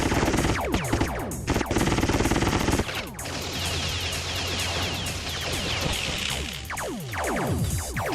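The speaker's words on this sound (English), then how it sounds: "They're actually shooting back." Rapid bursts of gunfire from civilians shooting back in the Terminal Velocity game, dense crackling volleys over a steady engine drone, continuous and loud across the whole stretch with no talking.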